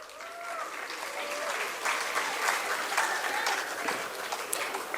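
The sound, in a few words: applause for award winners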